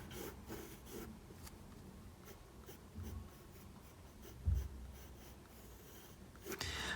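A pen or pencil drawing a cartoon Pikachu emoji on paper gives soft, steady scratching strokes with short pauses and light taps, close and quiet, with no talking.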